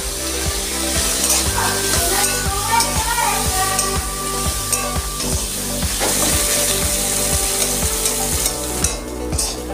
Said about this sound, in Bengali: উচ্ছে, একটু ভেজে নেব।